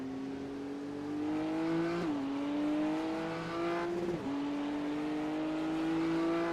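GTP race cars lapping Daytona, a high steady engine drone climbing through the gears with two clear upshifts, fairly close and continuous, with no voices over it.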